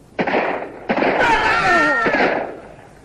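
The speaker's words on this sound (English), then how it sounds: "But just then, 3 shots came out of the forest." Three sharp gunshots fire from a forest, each with a rolling echo, the middle one trailing into a whistling tone, as a sound effect in an audiobook of Treasure Island.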